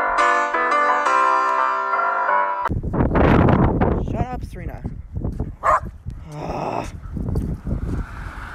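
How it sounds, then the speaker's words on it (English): A dog barks and yips excitedly up close while a person speaks over it, following a few seconds of musical tones at the start. "Stop barking."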